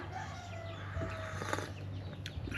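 Chickens cluck and fuss in the background over a steady low hum, with a few brief scratchy rustles; no one speaks.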